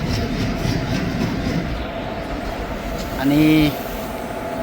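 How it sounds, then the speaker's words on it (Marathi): A CST-bound passenger train arriving at a station rumbles steadily with broadband rail noise, a brief tonal squeal near the end as it slows, and a voice speaking briefly. "सी एस टी ट्रेन आता आलेली आहे"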